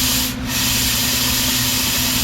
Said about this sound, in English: blow through the hose with air without the brake cleaner, and you'll see what comes out